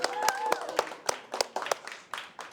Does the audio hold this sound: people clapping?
yes